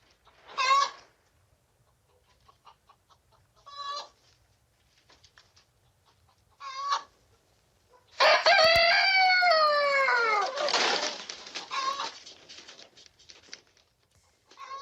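Chickens in a coop during an earthquake: scattered clucks, then a loud rooster crow and a burst of agitated squawking and flapping, close and frantic before settling back to occasional clucks.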